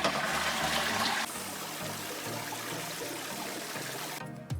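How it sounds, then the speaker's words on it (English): A household toilet flushing, a loud rushing gush of water that settles into a steady trickling refill and gurgle, close up and with no talking. "First, flush the toilet to wet the bowl."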